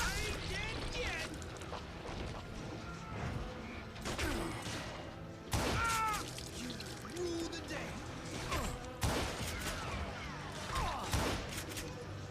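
Gunfire from the western shooter game Call of Juarez Gunslinger: several sharp, heavy shots land a few seconds apart over a constant bed of game sound and talk.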